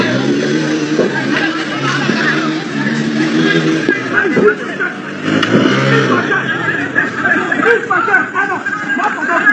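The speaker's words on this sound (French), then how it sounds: "vous voyez les milices qui arrivent à moto, qui sont aussi dans des pick-up" Militia arriving on motorbikes and pick-up trucks in Côte d'Ivoire, with engines revving and droning close by under nearly constant talk and chatter.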